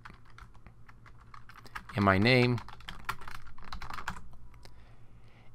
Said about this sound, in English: So, I can finish this off by typing in the date